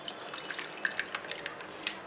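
Water is poured into a pot while cooking chicken fried rice, heard as a light splashing trickle with scattered bright drips and droplets, fairly close and moderately quiet, with no voices.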